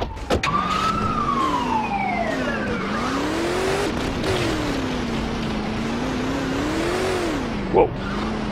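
Wailing police car siren in the GTA 2 video game, sweeping up and down continuously and loudly alongside engine noise and a brief skid, with game sound effects layered over it.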